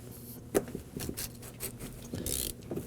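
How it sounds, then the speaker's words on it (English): Ratcheting and clicking mechanical sounds from a fuel pump removal tool being worked on the threaded fuel pump cap of a 2014-2020 Acura MDX 3.5L V6, a series of close, uneven clicks and taps over faint background hiss. "we're gonna simply use a removal tool for the fuel pump"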